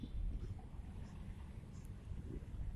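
Strong wind blowing along the Manila Bay shore at Dolomite Beach, a steady low rumbling roar of gusts across the microphone with water churning beneath, continuous and close, with no voices.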